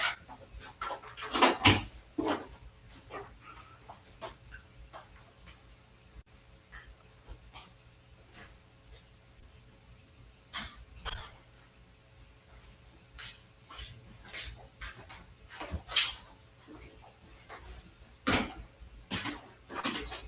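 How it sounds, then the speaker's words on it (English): A dog barks indoors or nearby in short, scattered bursts, some clustered and some isolated, fairly faint over a quiet background. "I'm going to have to let the dog in, or she's going to continue to bark throughout the presentation"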